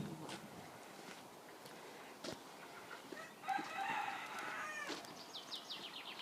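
Chickens and a rooster in a French backyard poultry yard shared with geese, with scattered clucks and a crowing call rising in the middle, moderately near over a quiet outdoor background.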